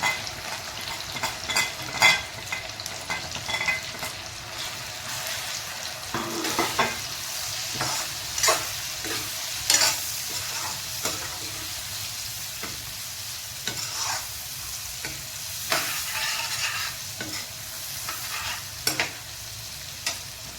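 Chopped tomatoes and spices frying in a pan, a steady sizzle broken by repeated scraping stirs of a utensil against the pan, close and moderately loud with no talk.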